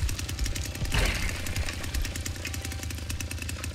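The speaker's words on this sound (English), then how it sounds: "What happens when I rip up the chainsaw?" Chainsaw in the Texas Chain Saw Massacre video game revving hard, a loud, rough, rattling engine drone that holds steady throughout with a brief surge near the start.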